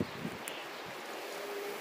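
Wind blows across an outdoor vegetable garden with cassava, okra and kale seedlings, a steady broadband rush with microphone buffeting, fairly loud and unbroken.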